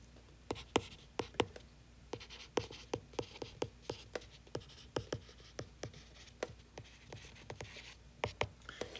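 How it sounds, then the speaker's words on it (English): A pen draws a diagram during a biochemistry lesson on amino acids. Quick, rhythmic scratching strokes repeat steadily, close but quiet, with no talking. "so let me draw it out here."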